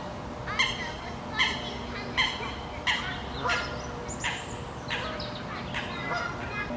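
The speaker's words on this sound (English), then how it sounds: "Another geese family hanging out." A family of geese calls outdoors with a series of loud, evenly spaced honks, about one per second, close by over a low steady background rumble.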